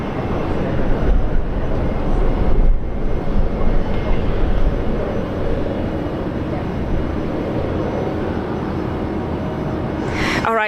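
An airliner landing at Brisbane International Airport, a loud, broad engine roar and rumble that swells early, then holds steady as it rolls past, with faint voices underneath.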